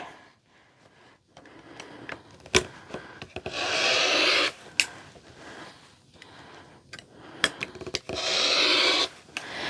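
Fabric being cut into a 2.5 inch strip, with soft scraping and rubbing passes broken by sharp taps and clicks, close and fairly quiet.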